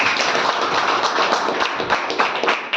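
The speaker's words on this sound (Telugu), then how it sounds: "గట్టిగా క్లాప్ కొట్టండి" An audience claps loudly at a sales talk on Vestige products, a dense, steady patter of many hands lasting the whole moment with no voices over it.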